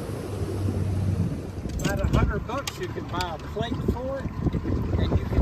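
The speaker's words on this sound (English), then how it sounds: "we hopped on his buddy's boat" A small boat motors across a shallow, low-tide waterway, a steady low engine drone mixed with wind noise throughout, with a brief high chirping burst of sound over it midway.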